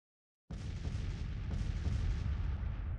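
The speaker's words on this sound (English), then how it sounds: "artillery opening up about 6:30 p.m." Artillery fire booms out in a Civil War strategy video game, a loud, continuous rumble of cannon shots that bursts in suddenly and rolls on without pause, with no talk.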